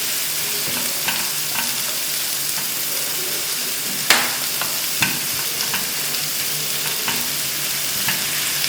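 Chicken pasta stirred in a sizzling pan after salt goes in, a constant frying hiss with scrapes and knocks of the spoon against the pan at irregular intervals, one sharper clack midway.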